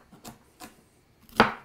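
Celery is cut into broad slices with a knife on a board, three distinct chops, two lighter thuds followed by a louder, sharper final cut, close and alone.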